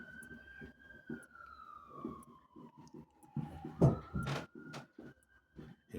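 A police siren wails on Bonfire Night in Ancoats, Manchester, its tone sliding slowly down and back up, held steady at moderate distance over scattered crackles and pops.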